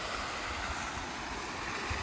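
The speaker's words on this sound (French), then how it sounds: "La petite cascade et puis la Cogourde." A small mountain waterfall in an alpine valley gives a steady, even rushing of water that fills the whole stretch without a break.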